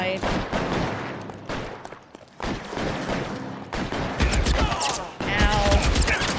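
Gunshots in LA Noire crack in dense volleys, a loud, chaotic exchange of fire with brief pauses, mixed with game voices shouting.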